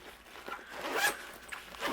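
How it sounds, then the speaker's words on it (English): A zipper runs shut on a craft travel bag packed with cardmaking supplies, in several short rasping pulls close to the microphone with no talking. "It zips closed"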